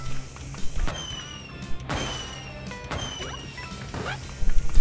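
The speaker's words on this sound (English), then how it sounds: "They shoot fireworks, so that's cool." Fireworks in Super Mario Bros. Wonder go off as a few sharp crackling bursts spaced across the stretch, each followed by a brief fizzing tail over game music, with a denser cluster of pops near the end.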